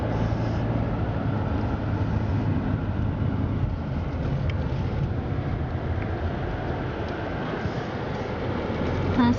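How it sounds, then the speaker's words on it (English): A car drives out of a residential neighborhood, its engine and tire rumble steady and close from inside the cabin, unbroken throughout, with no talking. "Last time driving out this neighborhood."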